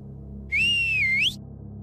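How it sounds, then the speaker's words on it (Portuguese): A single eerie whistle in a Caipora legend story: one sustained, wavering tone that slides up at the end, loud and clear over a low background hum, lasting under a second. "O assobio assustador."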